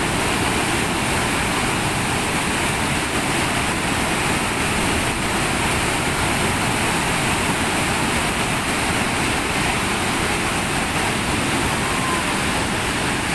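Floodwater from the open gates of Angat Dam during a typhoon flood rushes loudly and steadily as a dense, unbroken roar of water, close and with no talk over it.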